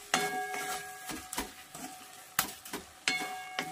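Carrot rasmalai mixture being stirred in a pan, with a series of sharp scraping and knocking strokes of a spoon against the pan over a faint sizzle, close and fairly quiet.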